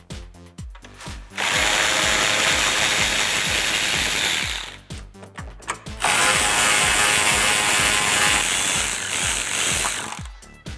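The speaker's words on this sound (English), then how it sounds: "there's only 2 more 10mm bolts that we need to remove" Power ratchet or drill spinning out 10mm bolts from a 2009-2018 RAM 1500 headlight assembly, two long loud whirring bursts with short clicky pauses between, close up and without talk.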